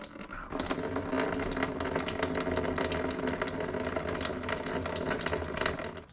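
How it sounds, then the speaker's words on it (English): Coolant pours in a continuous splashing stream from the radiator of a 1999 Honda Civic, with light metallic clicks and clatter scattered over the steady flow. "now we can start draining the coolant out of this thing."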